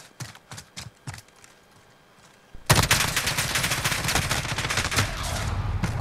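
Call of Duty Modern Warfare gunfire: a few separate shots, then after a short lull a loud, sustained burst of rapid automatic fire that runs to the end.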